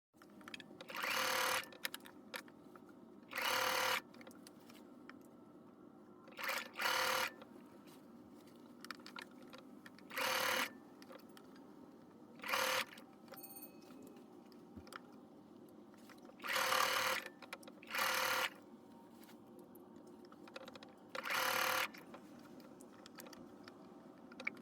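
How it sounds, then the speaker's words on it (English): Sewing machine stitching the sleeves of an oversized top together, running in short bursts of a second or two separated by quiet pauses, close and clear with no talking. "then we will sew them together"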